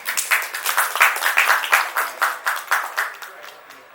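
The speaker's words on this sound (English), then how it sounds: "A round of applause for Praveen, please." A crowd claps in a rhythmic burst of applause, loud and close, fading out toward the end.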